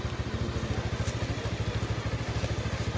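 Steady motorcycle engine idling or running at low speed, with an even throbbing pulse throughout, fairly close but moderate in level, with no talk.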